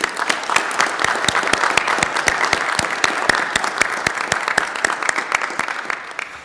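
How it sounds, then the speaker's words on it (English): An audience at a city council meeting in Anacortes gives a steady round of applause. The clapping is close and continuous, with sharp individual claps standing out throughout. "All right, one more round of applause"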